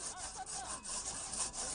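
A hand saw cuts back and forth through a log at a loggers' wood-sawing contest, giving rapid, rasping strokes that are close, steady and continuous.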